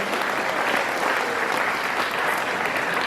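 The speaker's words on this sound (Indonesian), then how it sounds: "Tepuk tangan untuk Pak Dr." During a university orientation seminar on narcotics and health, an audience gives a speaker a continuous round of clapping, even and sustained throughout the short stretch.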